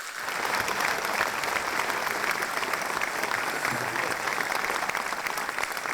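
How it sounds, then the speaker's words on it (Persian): A seminar audience applauds themselves on a business and personal growth theme: sustained, dense clapping from many people, loud and continuous for six seconds, with faint voices mixed beneath. "کف بزنید برای خودتون، تشویق کنید."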